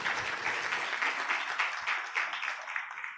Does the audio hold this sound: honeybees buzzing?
no